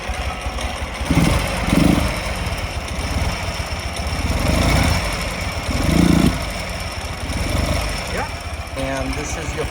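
A customized 2004 Ural Tourist motorcycle in gloss black, its engine running with a rough, pulsing mid-pitched chug that swells and fades, close and loud, with a person talking over it.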